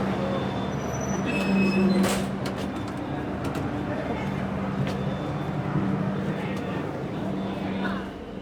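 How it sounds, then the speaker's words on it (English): The Tamil Nadu Express passenger train rumbles steadily to a stop with a sustained metallic brake squeal and scattered clanks and hisses, close by, continuing at a constant level. "Now once the train stops, I'll board the train."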